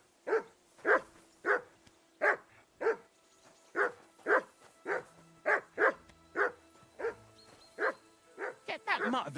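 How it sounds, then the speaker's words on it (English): A dog barks steadily in the medieval role-playing game Kingdom Come: Deliverance II, about fifteen loud evenly spaced woofs, turning faster and yippier at the end, with faint voices low beneath. "Get that mutt of yours to stop barking, will you?"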